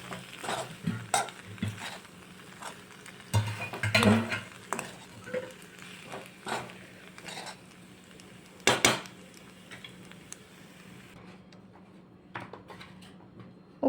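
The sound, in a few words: mixing pasta in a pan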